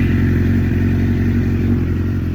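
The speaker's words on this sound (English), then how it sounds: "About to just go ahead and get a little cold start going." A Suzuki GSX-R motorcycle engine idles loud and close just after a cold start, a steady rumbling drone with even, fast pulses and no speech.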